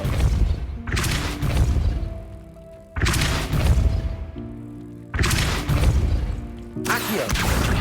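Repeated Depulso repelling spell blasts in Hogwarts Legacy, four heavy whooshing impacts with crashing thuds spaced about two seconds apart, loud and close, each trailing into a brief rumbling decay.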